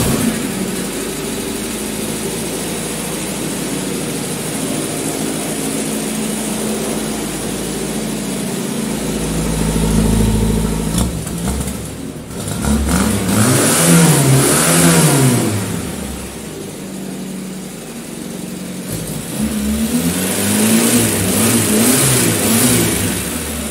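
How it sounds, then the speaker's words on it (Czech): A cold homemade small tractor engine with an electromagnetic needle connected runs close and loud, idling roughly before revving up in repeated surges that rise and fall. "ukážeme si, jak běží motor, když máme zapojený ten elektromagnetický"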